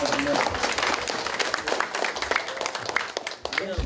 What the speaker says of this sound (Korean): 자 박수 칩시다 그러면.